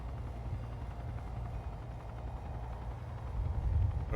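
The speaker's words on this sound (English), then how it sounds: "It's the helicopter." Helicopter in the online battle game Blood Hunt, a steady low rotor rumble holding throughout and swelling slightly louder near the end, with no talk over it.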